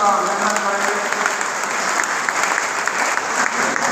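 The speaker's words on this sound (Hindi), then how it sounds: "जोरदार तालियों के साथ स्वागत का अभिनंदन करेंगे।" Steady, dense applause from a large audience at a BJP youth gathering, welcoming a guest with continuous clapping that holds at an even loudness throughout, with faint voices beneath.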